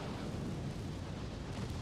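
A torpedo striking a warship in Ultimate Admiral: Dreadnoughts, heard as a dense, steady low rumbling roar like a sustained explosion, fairly quiet and unbroken for under two seconds.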